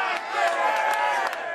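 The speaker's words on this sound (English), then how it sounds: "Let's give her a round of applause." Studio audience at a comedy insult show cheers and whoops with scattered clapping, a dense, loud crowd roar filling the whole stretch without pause.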